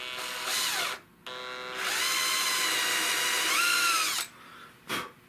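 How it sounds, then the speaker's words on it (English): A large power drill bores out the metal of a 16-gauge European Guild shotgun, a loud, steady whine that stalls briefly twice and shifts pitch as the bit bites, then a short final burst. "Now I'm going to take the big drill."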